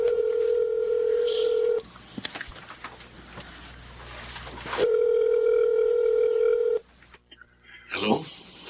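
Telephone line in a Filipino TV drama: a steady, clear ringback tone sounds for about two seconds, pauses with faint noise, then sounds again for two seconds, followed by a brief rustle and a faint voice at the end.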